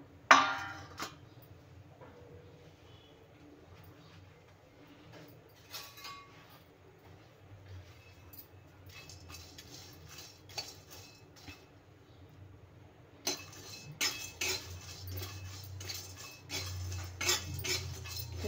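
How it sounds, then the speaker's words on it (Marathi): Dried prawns being dry-roasted in a kadhai on a gas stove give off soft intermittent clinks and rattles, growing busier with stirring in the last few seconds. "आता आपण झिंगे भाजून घेऊया।"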